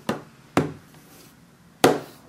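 A very sharp knife chops down on the back cover of a Samsung Galaxy S5 smartphone, giving three sharp, separate cutting impacts close up, two quick ones and then a louder third after a pause, with no talking.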